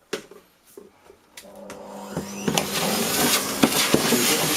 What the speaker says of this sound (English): Let me vacuum that off.